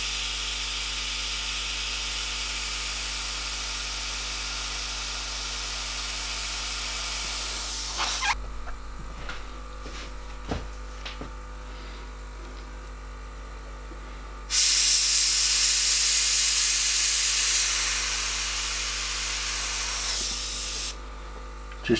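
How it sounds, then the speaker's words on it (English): An airbrush sprays paint in bursts for a horror portrait, a loud continuous hiss that cuts off abruptly, leaves a stretch of faint clicks and handling, then returns just as loud. "It's a bit all or nothing at the moment, this airbrush."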